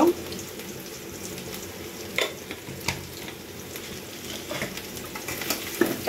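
Spiced chicken frying in a pan, a soft, fairly quiet sizzle broken by occasional scraping stirs and taps.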